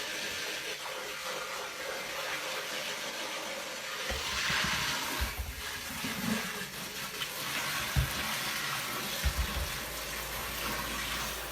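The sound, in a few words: rinsing blender jar under running tap water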